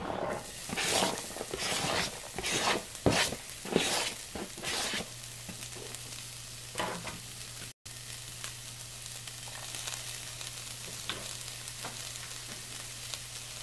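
Chopped onion dropped into a hot pan for a fish and tomato stew sizzles, with a few stirring scrapes and clatters early on, then a steady, fairly quiet frying hiss on its own.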